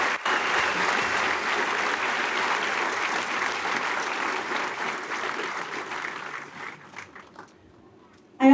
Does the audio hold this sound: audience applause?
yes